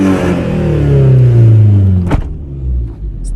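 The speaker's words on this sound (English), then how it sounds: "this thing's revving out real nice and it sounds sick" Turbocharged, rear-wheel-drive converted, lowered custom Toyota RAV4 engine revs up loud and close, a rising drone that peaks and then falls off with a brief click.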